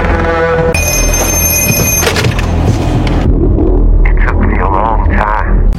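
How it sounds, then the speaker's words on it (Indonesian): A telephone rings in a horror film scene, a bright repeated bell tone cutting through a dense, loud soundtrack with low rumbling music and background noise. "ia kembali mendengar telepon yang berdering"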